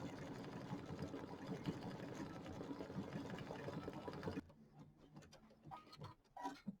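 An embroidery sewing machine stitches out a small snowflake design, a loud rapid needle chatter running steadily before stopping abruptly, leaving quiet room sounds and faint clicks.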